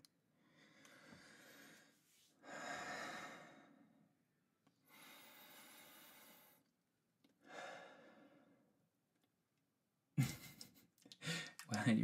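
Loud, heavy human breathing recorded close up, with several long, slow inhales and exhales separated by short silences, then a rustling of movement at the end.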